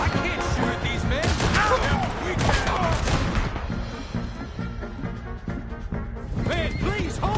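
Gunfire and crashing in Red Dead Redemption 2, a burst of sharp shots and impacts under shouted character dialogue, then quieter before more action returns.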